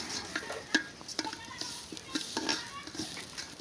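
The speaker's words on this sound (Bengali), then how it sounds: "তো ভালো করে নেড়ে চেড়ে ভেজে নিলাম।" Stirring and frying in ghee while making payesh, a utensil scraping through the pan over a soft sizzle in a short, close run of irregular strokes.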